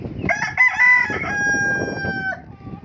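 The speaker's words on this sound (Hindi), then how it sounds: "शेरू शाम में भी ना अजान देने से बाज नहीं आता, हर वक्त अजाने देता रहता है।" A pet rooster on a rooftop chicken farm in Karachi crows once, a loud, close, drawn-out cock-a-doodle-doo lasting about two seconds, with pigeons and soft background noise around it.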